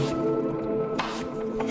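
Apple slices are pushed off a cutting board with the side of a blade into a bowl of salted water, giving a soft wet squish and slide with a few small splashy drips, close and quiet.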